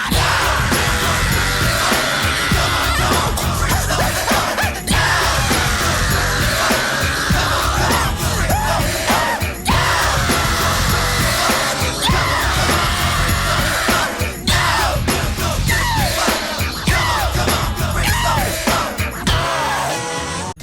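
A singer screams and yells through a dense, loud rock track, his raw vocal cries riding continuously over full band instrumentation for the whole stretch.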